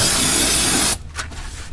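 A pressure spray blasts grease and brake dust off a race trailer's wheel hub, a loud, close, broad hiss that stops abruptly just under a second in, followed by a faint brief splash.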